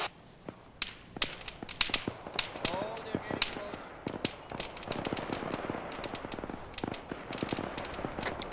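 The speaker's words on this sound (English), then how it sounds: "We got shots east." Distant gunfire in the military video game ArmA 3, a long run of sharp cracking shots in irregular bursts, with a voice speaking over part of it.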